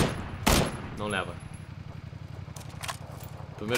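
A burst of gunfire in PUBG (PlayerUnknown's Battlegrounds) cracks early, followed by a low rhythmic motorcycle engine rumble, with a few sharp noises and scrapes scattered over it.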